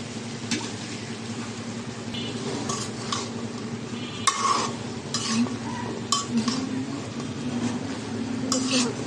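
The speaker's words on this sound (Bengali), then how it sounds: "সবজিটাও দিয়ে দিলাম এর সাথে, এটাও এখন কষাই নেব" Vegetables are stirred and sautéed in a cooking pot, with a steady sizzle under intermittent scraping and clinking of a spoon against the metal. The sound is close and moderately loud, and there is no talk.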